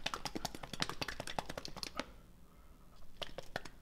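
Jelly being stirred in a Japanese DIY candy kit, a quick series of sticky taps and clicks in an uneven rhythm, pausing briefly before a few more scrapes.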